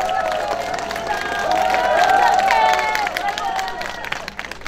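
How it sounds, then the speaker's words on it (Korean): Outdoor presidential election campaign rally crowd near an underpass in Nowon-gu, Seoul, applauding and cheering loudly and steadily, with shouting voices and babble mixed into the dense, sustained clapping. "다시 한번 큰 박수 부탁드립니다"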